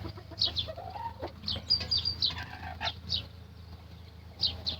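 A broody hen gives short, scattered clucks and chirpy calls nearby. They come in irregular bursts over a low background hum, with no speech.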